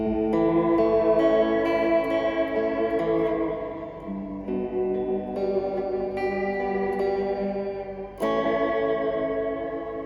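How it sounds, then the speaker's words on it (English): Electric guitar through a Fender Reflecting Pool pedal with delay set to analog mode, distorted chords and notes ringing out with lo-fi echo repeats and a fresh strum near the end. "analog, less fidelity and more distortion than NOS mode"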